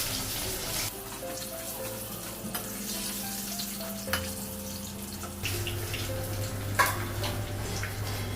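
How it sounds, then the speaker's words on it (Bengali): Steady sizzling of fish frying in hot oil, continuous and close, with a constant tonal hum in the background. "মাছটা ভাজা হয়ে গেছে"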